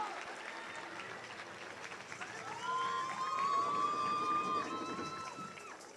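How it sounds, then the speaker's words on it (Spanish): An audience applauds a folk dance group at a New Fire ceremony during a national student sports event, with sustained clapping that swells midway, joined by a long whistle-like tone and crowd noise. "un fuerte aplauso para el grupo de danza folclórica Satenei."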